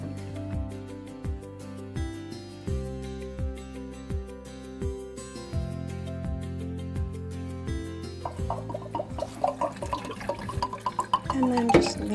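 Rinse water pours and trickles out of an AquaCure AC50 container, growing into splashy pouring near the end, with steady background music playing throughout.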